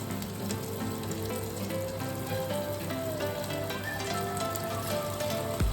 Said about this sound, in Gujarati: હવે આ રીતે આપણે બીજી પણ ફ્રાય કરી લઈશું